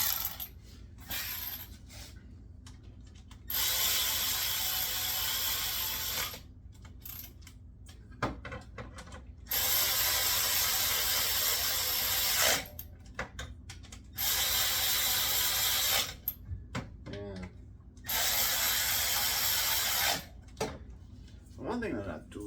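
A ratchet tightens spark plugs into a Hemi engine in a home garage, producing several loud bursts of rapid clicking that are separated by quieter pauses.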